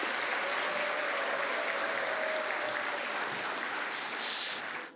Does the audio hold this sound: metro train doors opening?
no